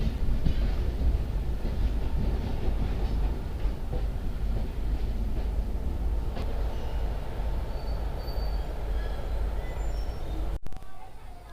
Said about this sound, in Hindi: ट्रेन निकलने के लिए बिल्कुल तैयार है